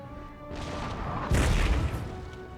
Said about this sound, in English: there are bombardments in the tree line here